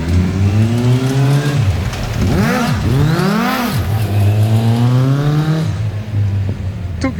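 A homemade go-kart engine revs loudly and close by during a rough test drive, its pitch climbing, dropping and surging again in repeated throttle bursts before settling.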